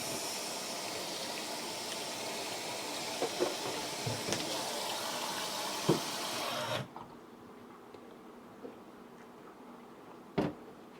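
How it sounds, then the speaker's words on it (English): Running water rinses the sides of a container holding a pineapple, turmeric and ginger drink, a steady close splashing that runs for several seconds and then cuts off, followed by a few faint knocks. "Then I'm going to rinse the sides."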